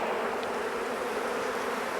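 Honeybees in an opened Maisemore Poly Commercial hive give off a dense, steady, close buzzing hum that holds evenly throughout, with no talking.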